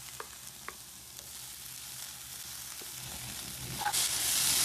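Carrot, capsicum and green chilli fry in a semolina pancake mix, a low steady sizzle with a few light utensil ticks early on, swelling into a louder, brighter hiss toward the end.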